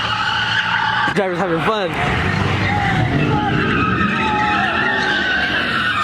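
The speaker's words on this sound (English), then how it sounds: "he's gonna go record a couple of the turn burnouts right now" Tires screech and skid loudly as a car does burnouts at a rowdy street car meet, with engine revving under constant squealing and crowd noise, and someone talking briefly over it.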